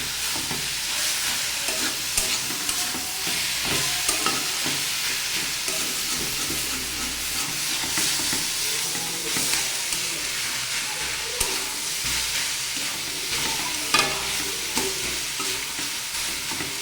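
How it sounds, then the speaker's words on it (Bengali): Banana flower and potato curry stirred in a pan, a continuous soft sizzle with frequent scraping and clinking of the spoon throughout, fairly close and steady, no voices. "এবার আর একটু ভালোভাবে নেড়ে চেড়ে দেবো।"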